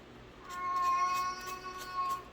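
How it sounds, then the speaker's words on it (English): An unhappy house cat gives a drawn-out, whiny meow lasting a couple of seconds, fairly close and clear against a quiet room. "And that would be my cat. She's not happy at the moment."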